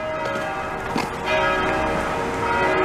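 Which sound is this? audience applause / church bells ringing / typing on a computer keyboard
church bells ringing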